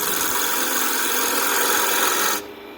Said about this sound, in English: I'm just going to create a tenon on this end